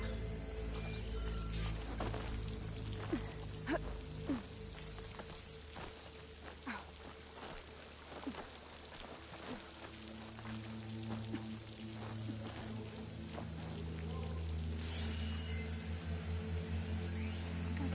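A waterfall in the video game Horizon Forbidden West pours with a steady soft splashing and trickling, faint and continuous, with scattered drip-like clinks over a low hum.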